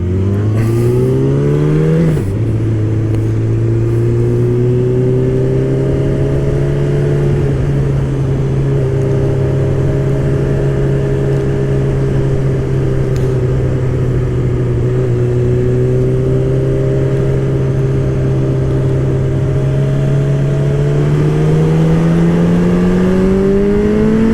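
Car engine revving steadily while driving, a loud sustained drone with a quick gear-change dip early on and slowly rising pitch, with no talk over it.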